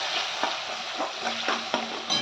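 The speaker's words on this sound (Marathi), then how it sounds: "त्याला चांगलं परतून घ्यायचं." Turmeric and garam masala are stirred and sautéed in a hot pan, making a close, steady sizzle with soft scraping strokes of the spoon. The sound holds constant throughout this short stretch, with no voice over it.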